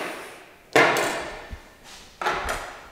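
A kitchen knife drawer is pulled open and pushed shut, giving two sharp, close wooden thuds with rattling knives and a softer bump between them.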